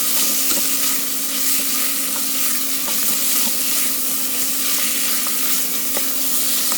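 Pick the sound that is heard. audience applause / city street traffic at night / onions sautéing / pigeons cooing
onions sautéing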